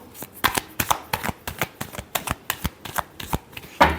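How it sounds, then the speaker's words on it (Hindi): Tarot cards being shuffled by hand in a quick run of about a dozen crisp riffling bursts, close and even in rhythm, ending with a louder final snap. "last shuffle,"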